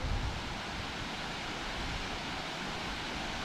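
Yerköprü waterfall near Ermenek roars as a steady, dense rush of falling water, loud and unbroken from start to finish with no voices.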